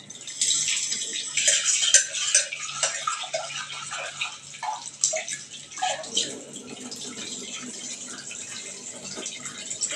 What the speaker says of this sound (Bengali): তো ছোলার ডালটা আমি ভালো মতন ধুয়ে নেব।